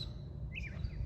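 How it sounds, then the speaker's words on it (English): Birds chirp by a river, with a short bright call and a few faint tweets over a low steady rumble of the outdoor setting. "The birds are singing"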